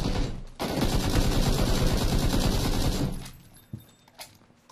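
Rapid sustained automatic gunfire in a ranked squad shooter game, loud and dense for a few seconds, then tapering to scattered shots and faint clicks.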